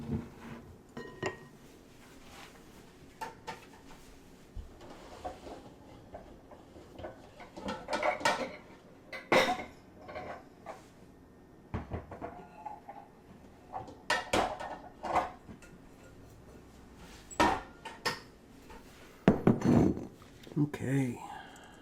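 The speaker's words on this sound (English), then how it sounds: "I'm going to get a different bowl to mix the dry ingredients" Kitchen bowls and dishes clink and clatter as a different mixing bowl for brownie dry ingredients is fetched, with intermittent knocks, a drawer or cupboard sound and a voice talking throughout.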